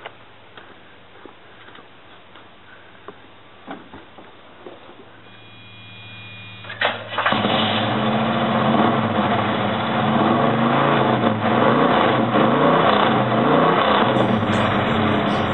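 A 1980 Camaro engine cranks and starts after several seconds of quiet clicks and ticks, then settles into a loud, rough, throaty idle with rising revs that rumble close by to the end.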